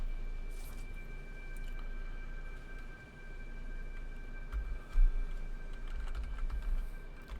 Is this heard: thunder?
no